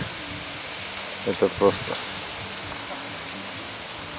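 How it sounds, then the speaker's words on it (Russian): A stream flows near a house with a steady, even rush of water, and someone speaks briefly over it. "Это ручей проходит."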